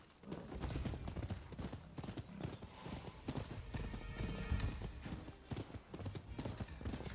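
Galloping horse in the Rise of the Ronin samurai video game, a steady rapid clip-clop of hooves with an occasional whinny, loud and continuous throughout.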